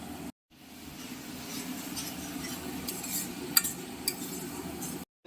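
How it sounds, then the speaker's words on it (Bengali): Nigella seeds tempering in hot oil in a wok, a soft steady crackle and hiss with a few sharp ticks from a utensil against the pan, fairly quiet and close, no talking. "গরম তেলে কালো জিরে ফোড়ন দুটো রান্নাতেই আমাদের কালো জিরে ফোড়ন তেলে দেওয়া হলো"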